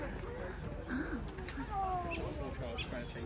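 Birds crowding around visitors at a zoo, with pigeon-like coos and short calls against a murmur of people talking nearby.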